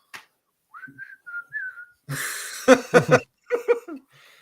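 Whistled melody from a song, a few short clear tuneful phrases played back, followed by bursts of laughter and chuckling.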